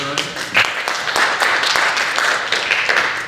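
Festival theater audience applauding, a dense, steady wash of many hands clapping close and loud throughout, with no voices over it.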